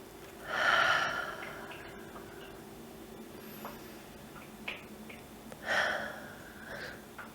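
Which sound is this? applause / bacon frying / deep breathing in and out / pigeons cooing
deep breathing in and out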